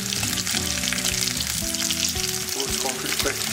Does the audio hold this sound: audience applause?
no